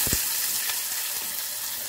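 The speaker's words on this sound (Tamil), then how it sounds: "உளுந்தம் பருப்பு போட்டுக்குவோம், கொஞ்சம் சீரகம் போட்டுக்கோங்க." Urad dal, cumin, green chili, curry leaves and onion frying in a pan, a steady bright sizzle with a couple of sharper spits at the start, continuous and close.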